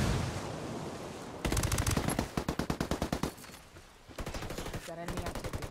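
Rapid bursts of automatic gunfire in the tactical shooter Ghost War, with dense rattling volleys that start, cut out and resume, loud and close with no talking.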